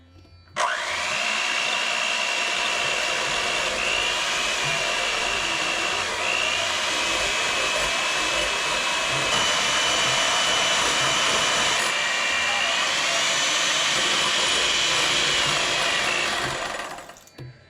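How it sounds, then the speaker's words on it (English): A hand mixer beats egg whites until fluffy for a dessert, giving a steady, close whirring drone that runs unbroken for about sixteen seconds with a slight shift in pitch partway through. "By using a hand mixture, beat egg whites until fluffy."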